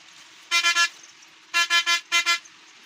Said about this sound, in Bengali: হিনো বাসের যে সাউন্ডটুকু এটা কিন্তু অসাধারণ বা অসাম লাগে